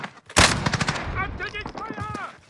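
Loud, close gunfire in a shooter video game: a sharp blast followed by a rapid burst of shots with ringing metallic tails, and a player speaking over it.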